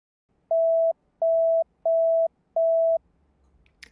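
Four identical steady beeps sound in an even sequence as a dispatch tone plays in a radio control panel, each about half a second long with short gaps, clean and isolated, followed by a faint click.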